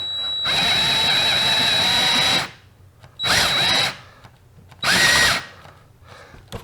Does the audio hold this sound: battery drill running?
yes